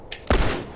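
A gunshot fired in a first-person shooter video game, one loud sharp crack with a short decaying tail, preceded by a faint higher click.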